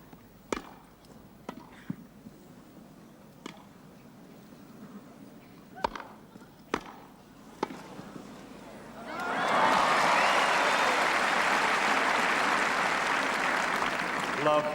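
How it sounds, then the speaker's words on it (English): Crowd at a 1977 Wimbledon men's singles semi-final between Bjorn Borg and Vitas Gerulaitis bursts into loud, sustained applause after scattered ball strikes and quiet murmurs, the clapping swelling suddenly and holding steady to the end. "that applause tells its own story of the epic quality of this match"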